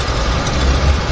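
A de Havilland Beaver floatplane's radial engine at Vancouver Harbour's floatplane base gives a steady, loud, low rumbling drone that holds throughout with no break.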